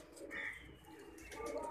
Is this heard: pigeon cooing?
yes